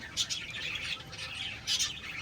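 Pigeons kept by a seller call close by in short, bright squawking bursts that come in two clusters over a soft, steady background hiss, with no talking.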